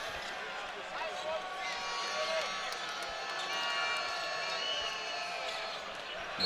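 Serbian fans cheering at the 2014 FIBA Basketball World Cup final against the USA after a big dunk by Nikola Kalinic, a steady broad arena crowd roar with whistles sustained throughout.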